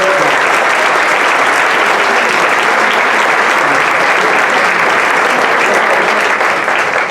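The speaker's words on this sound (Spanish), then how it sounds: "un aplauso para estas excelentes ponentes" Audience at a lecture on Jewish participation with Columbus applauding the speakers, a dense, loud, continuous clapping that holds steady throughout.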